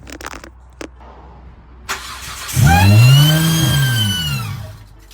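A 2008 Hyundai engine with a newly installed intake manifold cranks and catches, settling into a loud, steady run with a rising then easing tone after a few brief clicks and clunks.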